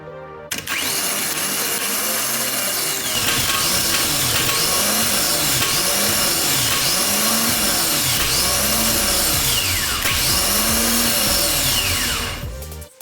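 A Ford starter motor spins up on a bench test, a steady loud whirring whine with a rhythmic warbling pulse that holds for about twelve seconds before cutting off abruptly.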